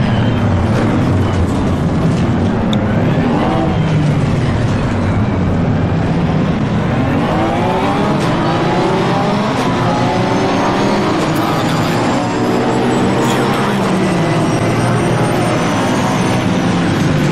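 A race car engine at Spa in the Assetto Corsa Competizione racing game, a loud continuous roar with rising and falling revs through gear changes, mixed with other cars' engines, dense and sustained throughout with no talk.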